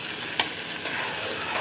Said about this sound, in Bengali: এটাকে একদম ভালো করে আমি ভেজে নিচ্ছি, কারণ চালটা যত বেশি ভাজা হবে